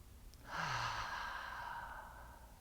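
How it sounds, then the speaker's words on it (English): A single slow, deep belly breath, a soft airy exhale that swells after half a second and fades gently over about two seconds in a quiet room. "And take one more belly breath here."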